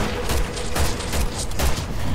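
Resident Evil 6 gunfire: a dense, continuous clatter of overlapping shots and booms, loud and close throughout, with no talking.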